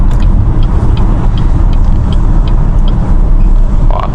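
A BYD Song hybrid with a 1.5 turbo and two electric motors, 324 hp, accelerating on a busy road: a steady, loud, broadband rolling drone of tyres and wind with a low hum throughout and no talk.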